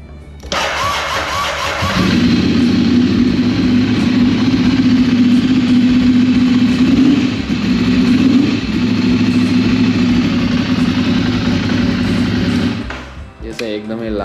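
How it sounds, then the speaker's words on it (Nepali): A motorcycle engine fires up and holds a loud, steady exhaust drone for about ten seconds before cutting off, the first of two bikes having their exhaust notes compared. "एक्जस्टको आवाज सुनाउँछु"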